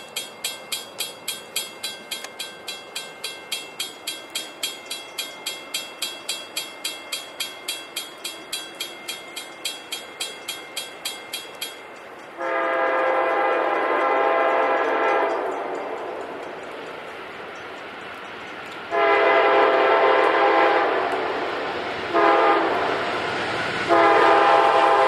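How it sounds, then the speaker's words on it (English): A train passing nearby with a steady rapid clickety-clack of wheels over rail joints, then loud sustained horn blasts sounding in several long bursts, the last few shorter and clipped. "here comes another train."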